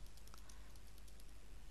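Keys clatter on a computer keyboard in a quick, faint run of soft taps over a steady background hum, with no voices.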